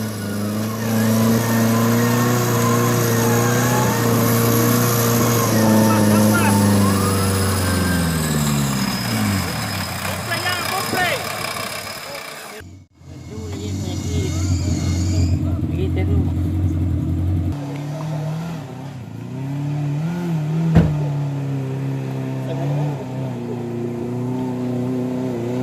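An off-road 4x2 car's engine revs hard and surges while driving on a rough course, loud and close, with a crowd shouting and talking over it; the engine drops out briefly midway then roars back.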